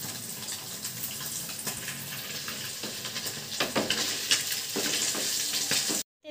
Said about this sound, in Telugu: బాగా ఫిష్ ఫ్రై వేయించుకున్నాము